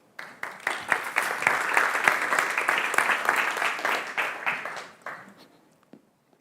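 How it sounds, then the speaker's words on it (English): An audience at a city science summit applauds, a crowd of hands clapping loudly and densely for several seconds before fading out into quiet. "Big applause for them"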